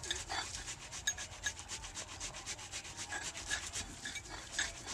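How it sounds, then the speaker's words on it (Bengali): A tomato rubbed back and forth against a kitchen grater gives a steady run of soft, moist rasping strokes at close range, with no talking over it. "এবার টমেটোটা আমি গ্রেট করে নেব।"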